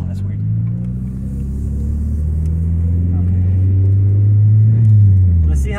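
An MK2 GTI's engine droning low and steady while the car drives with the top down, the note slowly swelling as it pulls, close and loud.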